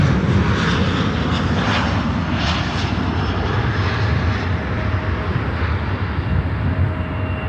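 A WestJet airliner at Chicago O'Hare roars loudly and steadily, its engine noise filling the scene with a dense continuous rumble and slight surging, close by and free of speech.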